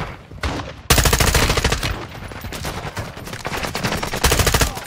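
Loud, close automatic gunfire from a Call of Duty DMZ match, with long dense bursts of rapid shots and short pauses between them, carrying on without talk.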